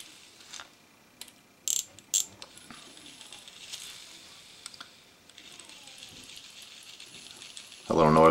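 Fishing reel gears turning after fresh grease, a faint, close ratcheting and clicking with a few sharper clicks, ending in a louder burst of mechanical noise.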